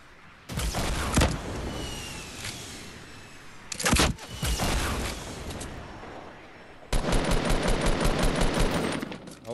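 Rapid bursts of automatic gunfire in a Fortnite match, loud and close, with sustained rattling volleys separated by brief pauses and a final fast-firing burst.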